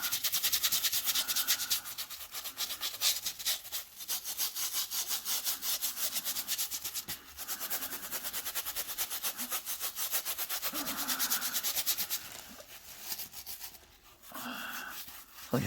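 Scrubbing a sneaker with Quick N Brite shoe cleaner, a steady close brushing rasp with quick back-and-forth strokes that runs almost continuously, pausing briefly now and then.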